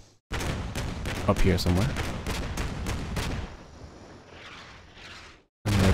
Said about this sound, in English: So they continue to come under fire from a Bradley